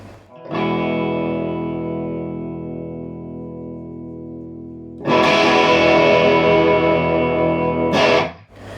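Electric guitar through a Harley Benton HB5 tube amp on its 5-watt setting: a long ringing chord fading slowly, then a louder, brighter driven chord sustained before a final strum.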